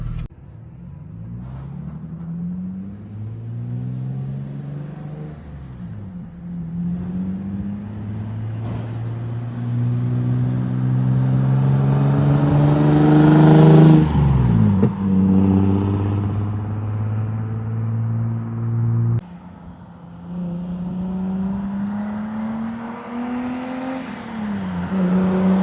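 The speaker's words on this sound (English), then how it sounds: "Well, we have lots of turbo noises" A racing car's turbo engine in a video game revs and climbs in pitch, with sweeping acceleration and gear changes, a loud continuous drone peaking midway before settling back.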